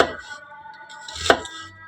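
Onions are chopped by hand with a knife on a board for içli köfte, with two crisp, close knife strikes about a second apart over quiet kitchen background.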